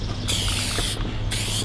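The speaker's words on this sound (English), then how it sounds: "we'll just hit them with the Sharkhide spray first" Sharkhide aerosol sprayed onto small aluminum pieces comes in two close, loud hissing bursts separated by a short pause, over a low background hum.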